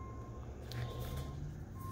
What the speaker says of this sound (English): And that's the garbage truck outside.